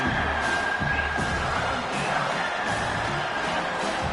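A college football stadium crowd roars in a steady, dense wash of cheering and whooping for the defense on third down, loud and sustained throughout.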